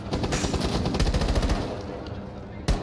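Rapid automatic gunfire in the video game Rainbow Six Siege, a dense burst of close shots followed by a single loud shot near the end.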